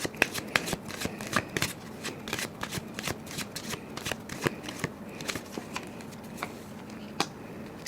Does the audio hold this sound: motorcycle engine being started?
no